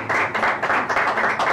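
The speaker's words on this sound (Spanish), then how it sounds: "quiero pedir un gran aplauso para los pasajeros de la A2 y B2" Passengers on a plane clap for a honeymooning couple, a short burst of quick, close hand claps in an uneven rhythm from a small group, with no talking over it.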